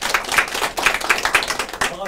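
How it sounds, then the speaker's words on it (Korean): An audience at a community stage event gives welcoming applause for the president of a volunteer group. Quick, uneven hand claps pulse together close by, mixed with voices. "모두 환영의 박수 부탁드립니다."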